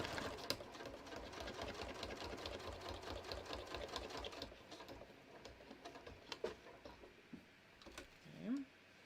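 Sewing machine stitching a handmade card, a fast rattling needle run that slows and stops, then a few single stitches as the hand wheel is turned to pivot at the corner, close by with soft clicks.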